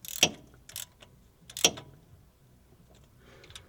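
Socket ratchet on a Ferrari Mondial cam belt tensioner, giving a few sharp close clicks in two short bursts, then quieter faint ticking.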